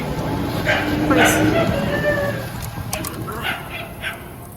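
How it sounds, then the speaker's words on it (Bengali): A dog barks and yips a few times at some distance while people talk nearby. "এই কুকুরে ডাকাডাকি করে রাত্রে হইলে"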